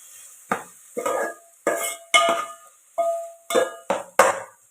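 A utensil stirs and scrapes chopped tomatoes sautéing in a pan for chicken gravy, giving about eight distinct clanking strokes at an uneven rhythm, close and clear with quiet gaps between.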